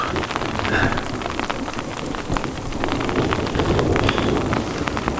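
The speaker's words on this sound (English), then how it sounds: "we got some thunder and lightning" A thunderstorm over the Montana wilderness, with heavy rain drumming steadily on a tent and low rumbling thunder beneath it, continuous and fairly loud.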